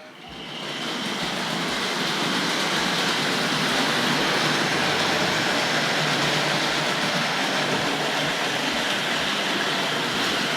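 A Tri-ang R.153 model saddle tank locomotive pulling goods wagons, a loud, steady whirring rumble that builds within the first second and then holds constant throughout, with no speech.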